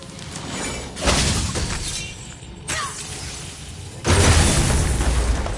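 Objects shattering in the video game God of War (2018): a few loud bursts of breaking debris at separate moments, the final crash sustained and heaviest, with no talk.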